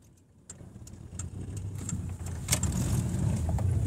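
A car creeps in and is parked outside a home. After a quiet start a low engine rumble builds and holds steady, with faint clicks and small knocks, close by and with no talking.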